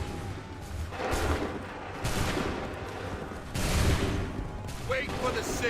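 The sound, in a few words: musket volley fired by soldiers in Assassin's Creed 3 video game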